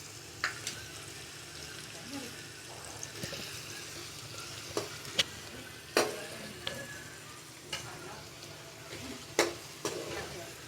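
Onions sizzle steadily in a pan for a mutton liver masala, with occasional sharp stirring scrapes and clicks over the frying hiss, close and moderate in level.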